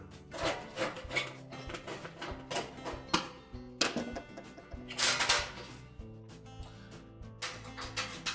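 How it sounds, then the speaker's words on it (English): Screws being backed out of the rear of a Frigidaire range panel give close, repeated rubbing and scraping of a screwdriver against sheet metal, with a few sharper clicks and knocks of the panel between strokes. "So just remove the two rear screws."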